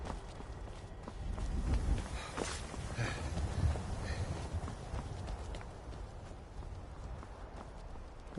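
Horse hooves clip-clop steadily in Skyrim, a loud, close, continuous walking rhythm with no one speaking over it.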